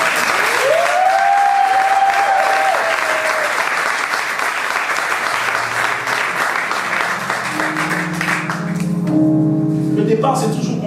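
A church congregation applauds and cheers to acclaim the Lord, with dense, steady clapping and crowd noise filling the room for about eleven seconds and sustained tones rising under it near the end.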